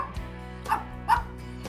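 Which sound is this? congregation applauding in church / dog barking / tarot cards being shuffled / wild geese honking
dog barking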